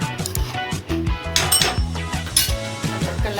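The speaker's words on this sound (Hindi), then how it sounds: "ढक्कन लगा के रख रही हूँ थोड़ी देर के लिए।" A metal lid is set onto a pan of stuffed eggplant (bharwa baingan) cooking on a gas stove, giving a few clinks and clatters of cookware in a home kitchen, with no talking.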